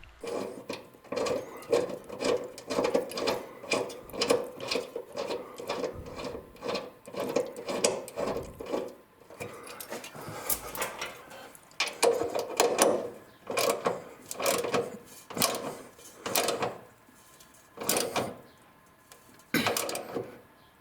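A new bolt with a flat washer being turned into the frame of a 1998 Chevy Blazer during a MagnaFlow muffler install, heard as rhythmic scraping and grinding bursts in quick runs with short pauses, close and with no speech.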